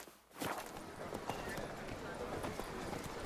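Geralt's horse Roach in The Witcher 3 gallops in quick, steady hoofbeats under a dense wash of game ambience, starting abruptly and running on throughout, fairly faint.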